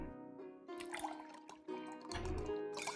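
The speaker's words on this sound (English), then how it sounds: "come pour me a drink" Drink being poured in the video game Card Shark, a close liquid splashing and dribbling into a glass in short uneven bursts, with a brief pause midway before the stream resumes.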